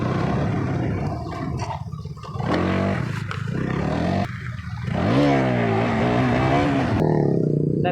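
A motorbike on a Saraswati Puja group ride revs up for a wheelie, its engine roaring in repeated surges with rising and falling pitch, loudest in a long climbing rev near the end, amid faint outdoor background noise.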